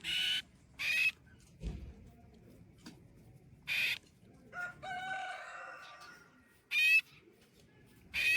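Two small rescued birds, likely parrots, chirp near a tea garden. Short, bright calls come in separate bursts a few seconds apart, close and loud, with faint rustling and a soft warbling trill in between.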